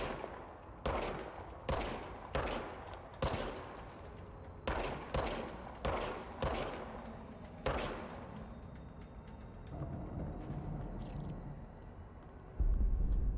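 Pistol shots ring out in the video game Control, about a dozen sharp, loud reports fired singly at uneven intervals, each with a short decaying tail, followed by quieter rumbling ambience.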